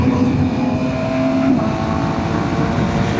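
Carbon-bodied BMW S1000RR motorcycle engine running steadily under loud wind roar while riding, with a quick shifter clicking through gear changes; a brief tonal shift near the middle may mark one shift.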